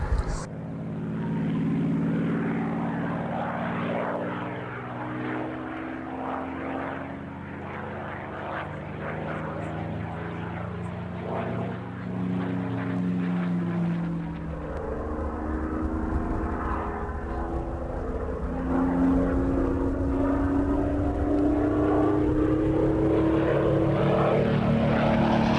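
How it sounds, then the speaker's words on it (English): P-51 Mustang propeller fighter of Scandinavian Historic Flight flying a display at an airshow, its piston engine droning steadily and shifting in pitch as it passes, with a public-address voice talking over it. "Andy Gent, Scandinavia historic flight, P-51 Mustang, a superb display."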